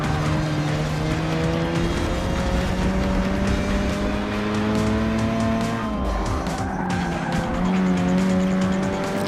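A race car in Forza Motorsport 6 brakes into a turn, the engine whining and shifting pitch while tires squeal and skid, loud and sustained throughout over faint music.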